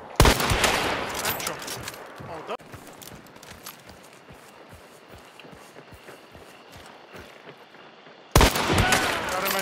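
Gunfire in the Hunt: Showdown video game: a loud blast opens, then a long run of rapid, regular clattering shots or footfalls, and another loud burst near the end, with players talking excitedly over it.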